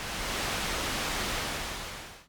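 A pure broadband noise loop built as game ambience plays steady and loud, an even featureless hiss that holds constant for about two seconds before cutting off abruptly.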